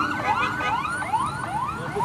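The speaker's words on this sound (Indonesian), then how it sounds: "Buka jalur buat ambulan." An ambulance siren wails through a street protest by students and workers against the omnibus law, rising sweeps repeating in steady succession at moderate distance, with crowd noise beneath.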